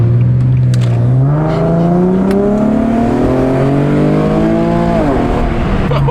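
An Infiniti G37 with test pipes exhaust revving up close and loud, the engine note climbing steadily over several seconds, then dropping sharply before settling back near idle.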